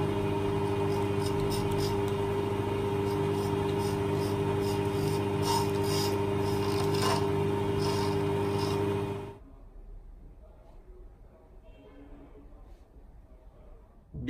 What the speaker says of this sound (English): you just run the machine and you start moving around the ring, which will make the radius whether you want